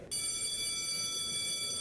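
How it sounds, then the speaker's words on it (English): A school lunch bell rings loud and continuous, a bright steady electric clang that starts abruptly and holds without a break. "Why is the bell ringing?"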